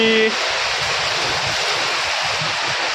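Unseasonal rainwater pours into a house and porch with a loud, constant rushing roar, near and unbroken after a brief tonal blip at the start.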